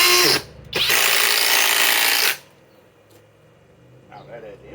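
A FLEX Quick Eject impact driver on a 2.5 battery drives a fastener with a loud, continuous motor whine and a brief stop-start near the beginning, then cuts out, leaving quiet room tone with a faint voice at the end.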